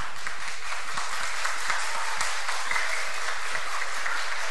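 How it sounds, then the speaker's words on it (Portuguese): Audience applause during a municipal council session, a loud, dense and continuous wash of clapping from a room full of people, holding steady throughout. "uma salva de palmas, Bolu."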